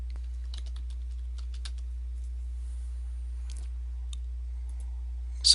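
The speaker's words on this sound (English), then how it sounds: "So type in that search term." Typing on a computer keyboard, heard as a run of close, light key clicks at an uneven pace over a low steady hum, ending with a slightly louder tap.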